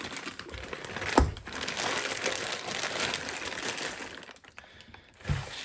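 Close plastic crinkling and rustling as the bag holding a Czech MTZ tractor turbocharger is handled, with a couple of sharper crackles and brief pauses.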